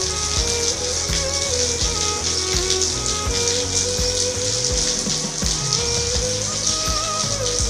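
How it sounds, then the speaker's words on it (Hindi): Heavy rain falls in Karachi, a dense, loud, steady hiss of drops on surfaces with scattered patter and splashes throughout and no voices. "ये ॾिसो कराची में बारिश ख़तरनाक जेको आहे सूरत हाल"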